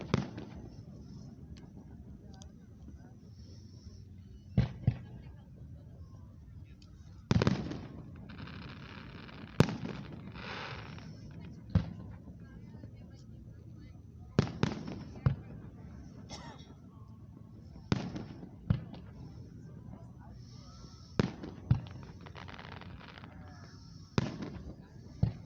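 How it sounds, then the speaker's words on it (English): Fireworks at the Celina Lake Festival on Grand Lake St. Marys, Ohio, boom as a dozen or so sharp, fairly distant bursts at irregular intervals over a low background murmur. "Enjoying the 2026 Celina Lake Festival Fireworks Show."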